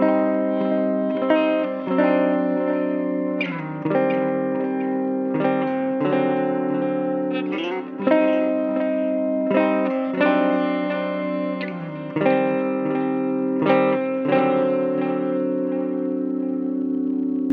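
Electric guitar chords ring through the delay effect of a GE150 amp, each strum trailing into repeating echoes, steady and clear with no voices.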